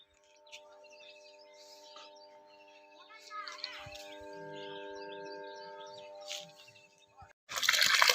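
A running 2 HP electric water pump motor beside a farm well gives a steady tonal hum with faint flowing water, while birds chirp nearby and a loud rushing burst comes in at the end.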